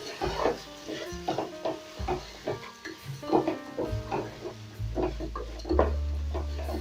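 Pilau rice being stirred with salt in a pot, repeated scraping and shuffling strokes at close range over a low background hum.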